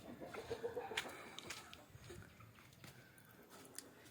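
Country chickens cluck faintly in a house, with a cluster of soft clucks early on, then sparse, quiet calls over low room background.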